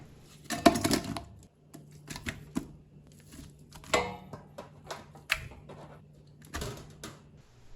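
Radish, onion and garlic are chopped thickly on a cutting board, making a loose, irregular run of sharp knife knocks against the wood at close range, spaced by short pauses and with no speech.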